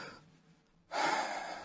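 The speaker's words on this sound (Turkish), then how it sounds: "Nefes alır mısınız?" During a doctor's examination in a radio drama, a patient takes one deep audible breath in, a short rushing inhale after a quiet pause, close to the microphone.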